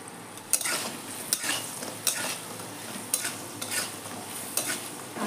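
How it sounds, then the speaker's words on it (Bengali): Potatoes frying in a pan, a soft steady sizzle with repeated sharp scrapes of a spoon stirring, close and alone with no speech. "আলুটা প্রায় ভাজা হয়ে গেছে।"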